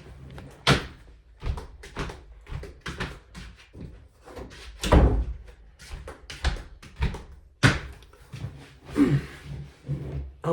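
A door is shut amid a run of scattered knocks, clunks and handling bumps, several sharper thuds standing out close by over about ten seconds, with no talking.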